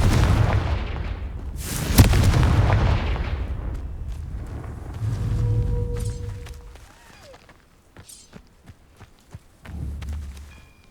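Confringo blasting-spell explosions in the video game Hogwarts Legacy, a loud booming burst followed by rumbling thuds and scattered smaller impacts fading over several seconds.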